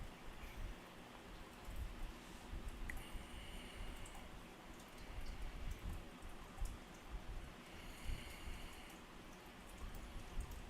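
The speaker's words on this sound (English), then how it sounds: "It sounds like rain." Rain falls in a soft, steady patter with scattered nearer drips and ticks, fairly faint and continuous, with no talk over it.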